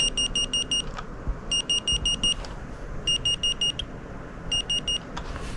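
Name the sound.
film camera autofocus warning beeps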